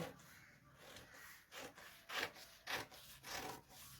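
Scissors cut through fabric while a butterfly top for wearing with jeans is being made, giving repeated rasping, crunchy snips in uneven bursts, close and fairly quiet, with no talking.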